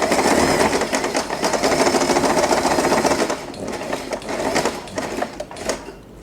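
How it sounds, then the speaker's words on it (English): A sewing machine stitching around fabric for a hair bow, running in a steady rapid mechanical whir that is loud and close, then slowing into shorter bursts near the end. "You can just take this to the sewing machine and sew all around the fabric."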